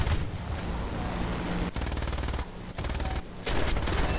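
Bf109 fighter guns firing in War Thunder, long bursts of rapid automatic fire with short pauses between them, loud and close over a constant engine drone.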